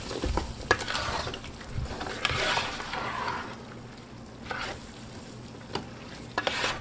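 Onion soup mix is stirred into brisket ingredients, making soft, uneven scraping and rustling with a few light knocks, fairly quiet and close.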